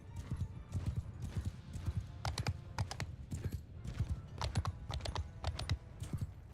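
Rapid, steady hoofbeats of several horses galloping, close and loud, with sharp clattering strikes throughout and no talking, in the video game Mount & Blade.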